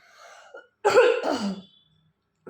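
A person with a sore, scratchy throat and a cold coughs indoors, giving one loud, harsh burst near the microphone after some faint earlier sounds, and another brief sound starts at the very end.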